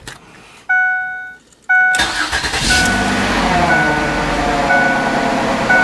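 A Ford Freestyle with a lit check engine light and an O2 sensor heater circuit fault starts up after a few door chimes, then settles into a steady, close idle that runs on alone.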